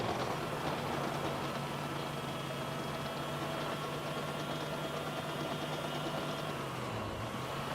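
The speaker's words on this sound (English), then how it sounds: "They're just the tank tread sounds, or it's like one of the tank tread sounds." Steady rumbling grind of tank treads in a modded Halo 3 multiplayer match, continuous and loud with a droning engine-like hum and a slight dip in pitch near the end, no talking.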